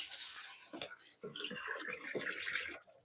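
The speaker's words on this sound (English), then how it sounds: "Started pouring water into my water reserve." Water pouring and splashing into an aquarium water reserve in a home fish room, an uneven running gush with bursts, and a voice talking briefly over it.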